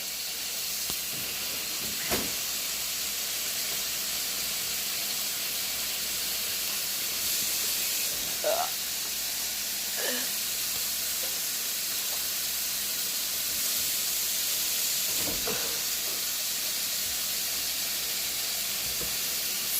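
A continuous steady hiss, like about a tablespoon of butter sizzling in a hot pan, runs unbroken throughout, with a few faint scattered clicks and taps.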